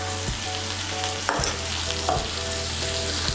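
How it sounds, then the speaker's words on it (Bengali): Soybean kosha is stirred with salt and sugar in a pan, with a spoon scraping and knocking a few times over a steady, close sizzle of frying. "নুন চিনিটাকে ভালো করে মিশিয়ে নেব।"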